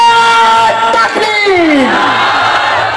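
Crowd at a religious gathering with a Dr Khalid Mahmood Soomro address shouting a takbir slogan response in unison, a loud swelling roar of many voices with rising and falling harmonic shouts, fairly close.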